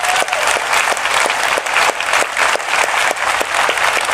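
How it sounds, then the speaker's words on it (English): A conference audience at a DEFCON hacker convention applauds loudly and steadily, dense clapping filling the hall throughout with no break. "Let's give her a big round of applause"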